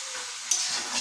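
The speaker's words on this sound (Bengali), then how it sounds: "চিকেন আর আলু একবার দিয়ে দিয়েছি, আমাদের চিকেন কষা হচ্ছে।" Chicken and potato pieces sauté in a hot pan, giving a steady close sizzle and hiss with a brief sharper crackle in the middle, with no talking.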